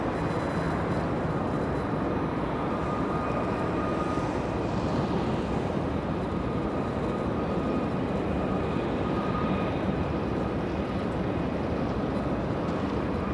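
An Air New Zealand airliner taxiing onto a taxiway at LAX gives a steady, broad jet engine rumble with a faint high whine, continuous and fairly distant throughout.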